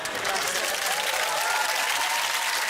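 Studio audience clapping steadily at a comedy word-game show, a dense, continuous wash of applause filling the room for under three seconds.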